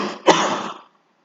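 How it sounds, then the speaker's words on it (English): A single sharp cough from a man lecturing, a hard burst followed by a short rough throaty tail that fades out into silence. "Suffering from light cough."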